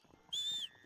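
One short, clear rising whistle blown to call a dog in the video game Red Dead Redemption, sounding alone over a faint, quiet background.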